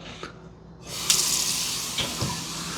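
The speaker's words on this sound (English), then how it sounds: "So, got the sink running." Kitchen sink faucet turned on in an apartment, water starting with a soft trickle then opening into a steady, fairly loud broadband rush that runs continuously, with a couple of small clunks near the basin.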